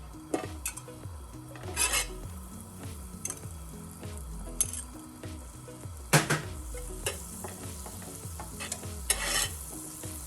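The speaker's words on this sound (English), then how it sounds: "add the butter, so it starts getting melted in there" Butter melts in a hot pan on the stove while a utensil stirs and scrapes against it. Light sizzling carries steady scraping strokes with a few sharper clinks, close by and with no talking.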